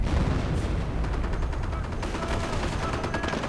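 Continuous video game battle gunfire rattles loud and close, mixing rapid machine-gun bursts with rifle shots and heavier booms in an unbroken barrage.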